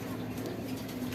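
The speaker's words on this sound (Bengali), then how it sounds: "আর আরো 2 জোড়া গিরিবাজ কবুতর দিব" Giribaz pigeons cooing softly and close, a low, steady coo over a quiet indoor background.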